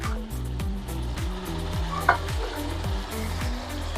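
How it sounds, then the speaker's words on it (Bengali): Ginger and cumin paste frying for a village-style snakehead fish curry, stirred with a spatula in a pan: sizzling hiss under rhythmic scraping strokes repeating about twice a second, close and steady. "এখন ভালোভাবে নেড়ে চেড়ে নিচ্ছি।"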